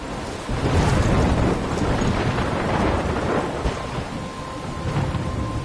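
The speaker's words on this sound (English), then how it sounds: "I'm trapped in a storm?" In the game Life is Strange, a heavy thunderstorm rolls on with loud, rumbling thunder over a dense wash of steady rain that carries on throughout.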